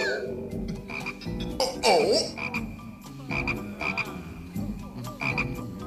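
Toads croak repeatedly in a cartoon, a busy chorus of rhythmic, close croaks layered together over a faint musical background with no talking.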